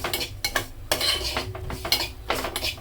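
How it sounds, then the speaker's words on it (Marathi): Semolina roasting in ghee in a pan is stirred with a metal spoon, producing repeated scraping and clinking strokes against the pan in a steady rhythm, close and fairly loud, with no talk. "तर हा रवा चांगला भाजून घ्यायचा आपल्याला"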